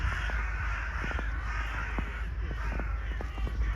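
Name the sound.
crows cawing in snowy Odessa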